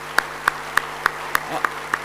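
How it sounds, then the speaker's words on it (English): Audience claps for parents at a college freshers' induction programme, heard here as about seven separate sharp claps spaced evenly apart, with faint room hum under them. "Let's give a big round of applause to these heroes."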